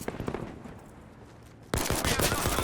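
Sniper rifle fire in the shooter game Battlefield V, several sharp close cracks and a dense burst of loud gunfire after a quieter stretch of distant battle noise.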